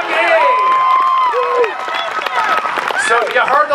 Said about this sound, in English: So a great big round of applause for Beaver Dam, Kentucky!